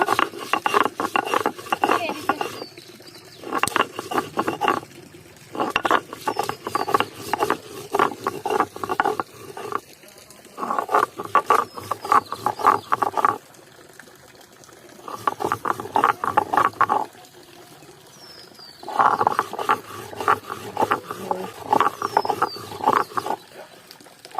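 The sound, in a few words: chillies and salt ground on a grinding stone (shil-nora)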